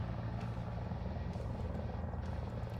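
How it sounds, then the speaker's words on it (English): A Mi-35 attack helicopter in War Thunder ground and air combat, a continuous low rotor thrum and engine drone close by, steady throughout. "there's an Mi-35 like right fucking next to me"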